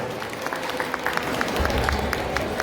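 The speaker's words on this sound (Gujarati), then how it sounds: "એમને લાલપુર આજે જોરદાર આપણે તાળીઓથી વધાવશું." An audience at a community caste gathering in Lalpur breaks into applause, a moderate, rapid patter of claps that gets fuller toward the end, with a low rumble underneath.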